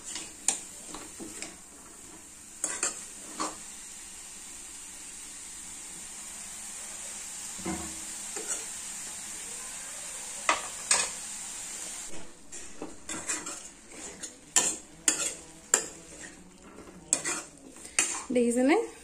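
A metal spatula scrapes and clinks against a pan as chopped food fries on a gas stove over high flame, with a steady faint hiss and a run of sharper clatters toward the end.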